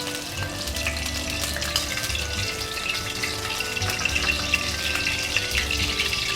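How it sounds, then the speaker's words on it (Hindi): Garlic and ginger paste fries in a cup of hot oil, a steady close sizzle with bubbling crackle and occasional stirring clatter throughout. "और 30 सेकंड इसको हम लोग भूनेंगे ताकि इसकी थोड़ी सी खुशबू निकल जाए"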